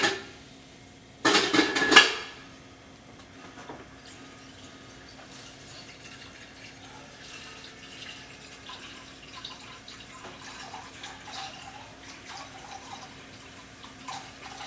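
Water rushes from a kitchen tap into a cooking pot for paleo noodles: a loud burst of filling for about a second, then quieter clinks and small kitchen handling noises.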